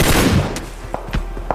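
Gunfire in a shooter video game, several sharp shots in quick succession at moderate distance, heard alone without talking.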